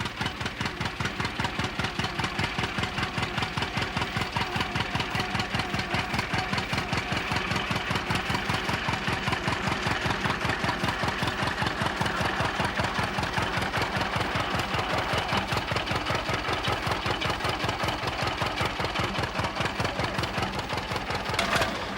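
A John Deere two-cylinder tractor engine idles on an Ontario farm, a loud, close, steady low putt-putt that holds an even rhythm throughout with no talk.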